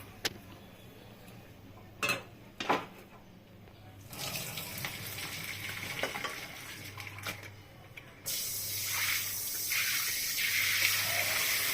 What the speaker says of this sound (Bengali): জলটা ছাঁকনিতে ছেঁকে নিলাম, ছেঁকে ঠান্ডা জল দিয়ে ধুয়ে নিলাম।